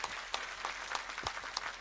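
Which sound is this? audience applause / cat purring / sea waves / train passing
audience applause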